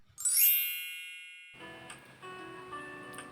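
A bright bell-like ding rings out and slowly fades, followed by soft background music.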